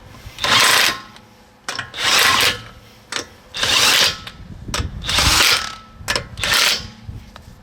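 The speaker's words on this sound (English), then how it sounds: "like to start the thread first before putting them on with a rattle gun" Electric rattle gun driving bolts on a Honda Stepwgn, five loud bursts of buzzing hammering, each lasting around a second, with short pauses between them and a couple of brief blips.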